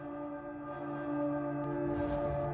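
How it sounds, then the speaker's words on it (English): A nighttime bell in the Twisted Wonderland video game tolls with a sustained, ringing metallic tone over a steady musical backdrop, one soft strike entering near the end, with no one talking. "Ah, the nighttime bell."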